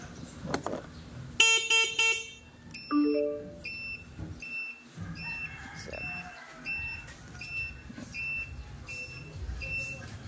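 A car horn beeps in short repeated honks, with an electronic beeping tone recurring at a steady rhythm over faint background noise.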